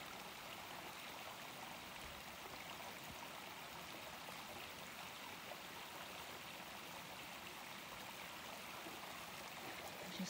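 River water flows in a steady, even rush with no breaks, a faint, constant outdoor stream wash with no voices.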